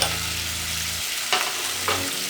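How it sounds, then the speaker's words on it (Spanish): Bacon and onion fry in a pan with a steady, loud sizzle and hiss, broken by two short scraping stirs near the end. "Mientras está cocinándose el tocino con la cebolla"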